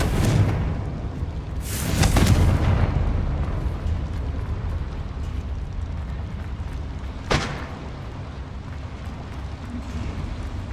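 Confringo fire spell exploding in the Hogwarts Legacy video game: a loud blast bursting near the start, followed by a second sharp crack about five seconds later over a continuous rumbling game soundscape.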